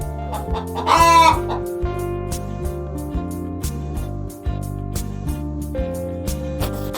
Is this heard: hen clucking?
yes